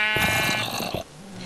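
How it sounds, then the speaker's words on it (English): Sheep bleating in Minecraft, a single loud, close, wavering cry with a harmonic tone, trailing off into a lower, quieter grunting sound. "Oh, that's just sheep."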